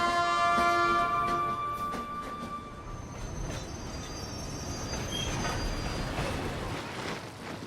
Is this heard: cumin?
no